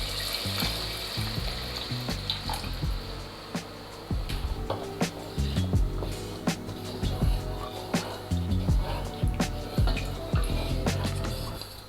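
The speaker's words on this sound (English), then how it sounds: "I'll add in some water." Water is poured into a pot of simmering jollof rice seasoned with thyme and salt, with irregular drips, splashes and sizzling bursts close by, and no talking.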